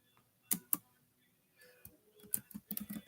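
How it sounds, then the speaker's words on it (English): Keys on a computer keyboard clicking close by in short irregular bursts, with two sharp strokes early and a denser run of taps toward the end, quiet between. "I'm typing."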